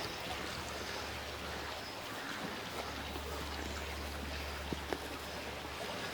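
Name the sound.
brook running full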